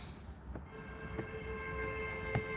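A train horn sounds in repeated blasts, steady tonal lines stretching across the whole stretch, fairly distant and moderately loud over low rumbling background noise.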